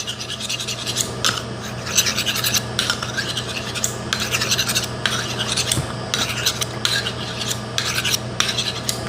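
Knife blade being sharpened during catering prep, steady repeated scraping strokes in an even rhythm over a constant low hum, close and fairly loud with no talking.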